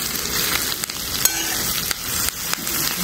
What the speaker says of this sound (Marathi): आपण थोडं टाकून परतून घेऊ.